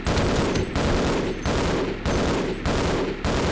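Rapid automatic gunfire in Half-Life, a Marine shooting a scientist, delivered as several loud sustained bursts separated by brief pauses, close and harsh with no talk.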